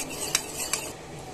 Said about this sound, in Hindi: अब हम इसमें उबलते हुए दूध में अपना ये कस्टर्ड पाउडर मिलाएंगे, इस तरह से धीरे धीरे चलाते हुए